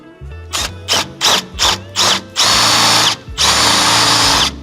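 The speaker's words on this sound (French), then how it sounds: "je vais faire un deuxième perçage à 11 pour venir mettre l'insert" A power drill bores a second 11 mm hole into a Mercedes Sprinter chassis to take an insert, running in several short, loud bursts before two longer, sustained runs close up.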